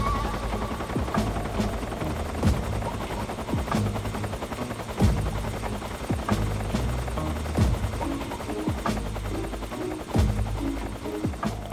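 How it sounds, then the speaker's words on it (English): A helicopter in Metal Gear Solid 3 flies close overhead, its loud, steady rotor thump throbbing continuously, with periodic sharper bursts of gunfire cutting through the drone. "Wow, that chopper is close."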